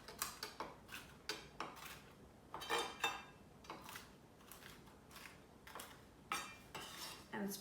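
Walnuts being chopped on a board with a knife, a quick irregular series of crisp taps and clicks, fairly close and quiet, with short pauses between bursts.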